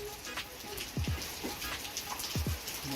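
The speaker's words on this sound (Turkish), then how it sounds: "Yağmur da çok güzel yağıyor." Steady rain patters continuously in the background while a few low voiced sounds break through nearby.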